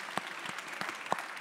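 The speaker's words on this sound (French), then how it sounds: "Allez, on peut les faire applaudissements." Sparse, scattered applause from the audience at a conference on the main stage of an event about reindustrializing regions, just a few separate claps over a brief moment rather than a full ovation.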